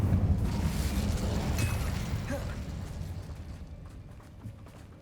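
The Incendio fire spell is cast in the Hogwarts Legacy video game, letting out a whooshing, rumbling burst of flame that starts full and loud and then fades away.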